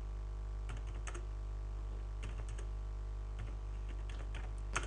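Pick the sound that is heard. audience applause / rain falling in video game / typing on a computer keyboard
typing on a computer keyboard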